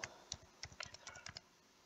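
Fingers tap out a short burst of typing on a computer keyboard: quick, faint, close keystrokes in an uneven rhythm lasting under two seconds, then quiet.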